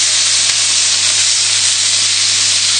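Steaks frying in a pan, a steady loud broadband sizzle and hiss that holds evenly throughout, close up with no voices.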